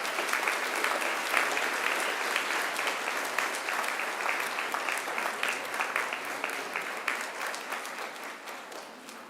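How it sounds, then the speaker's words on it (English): Graduates at a Macquarie University graduation ceremony turn to applaud their families, friends and supporters, a sustained, dense clapping from a large hall crowd that holds steady and then gradually tapers. "give them a mighty round of applause"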